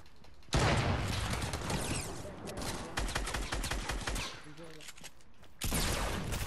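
Rapid bursts of gunfire in the video game Fortnite, loud and dense, firing almost continuously with a brief pause near the end before resuming, with players' voices talking underneath.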